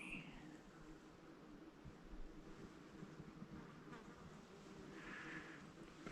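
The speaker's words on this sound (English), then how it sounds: "it has a natural hornet's nest. You can see them going in and out." Hornets buzz faintly in the open near a natural nest on a hillside saddle, a soft steady drone with occasional louder passes under light wind and rustle.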